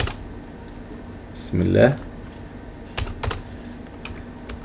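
Typing on a computer keyboard, heard as a few quick, light key taps near the end of the clip under a faint background hiss. Someone speaks a short phrase just before them.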